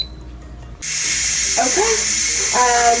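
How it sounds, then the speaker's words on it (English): An electric pressure cooker vents steam after cooking oatmeal, a loud, steady hiss that bursts on abruptly and holds, while a voice talks over it. "It is releasing all the steam, and then we can eat breakfast."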